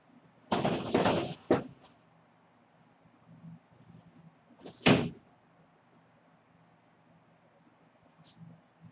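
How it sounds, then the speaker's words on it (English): A back door is pushed shut with a couple of loud, close knocks and bangs, then another thud a few seconds later amid a quiet room with faint background noise. "You can shut the back door if you want."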